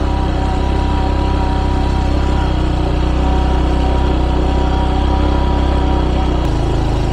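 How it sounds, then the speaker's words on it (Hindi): A motorbike labours up a steep hill at Charan Pahadi, its engine a loud, steady, rumbling drone held at high effort throughout, close by with no voices. "और हम बाइक से ही चढ़ाई कर रहे हैं"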